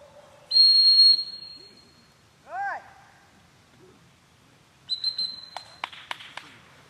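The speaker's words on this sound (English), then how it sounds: "stopped the dog with a whistle sit" A handler's whistle at an AKC senior hunt test, commanding a retriever to sit: a long shrill blast, then a short rising tweet, and later a burst of sharp whistle notes and chirps outdoors.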